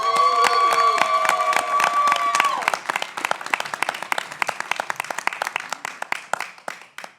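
Audience at a pitch competition event claps and cheers loudly, a dense burst of applause with shouts that gradually thins into scattered individual claps before fading out.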